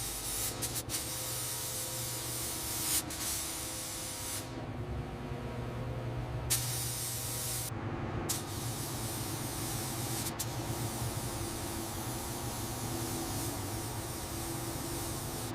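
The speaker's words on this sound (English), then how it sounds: "A controlled coat of original factory red applied evenly across the firewall and inner" A spray gun applies original factory red paint across the firewall and inner wings of a 1957 Jaguar XK150, producing steady close hissing passes broken by a couple of short pauses.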